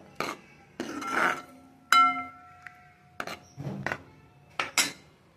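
Dal tadka being stirred in a cooking pot: a spoon clinks and scrapes against the pot in several separate, close bursts with short pauses between them, and no one talks.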